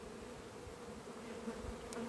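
Honey bees buzz around full hives in a sunflower season, a steady faint hum of many insects from moderate distance, with an occasional closer bee passing.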